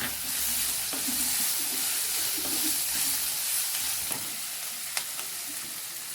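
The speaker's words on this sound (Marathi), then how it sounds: "अद्रक टाकल्यानंतर पुन्हा फ्राय करून घ्यायचं आहे" Chopped ginger frying with chilli paneer ingredients in a pan, a continuous loud hissing sizzle with occasional sharp clicks of stirring.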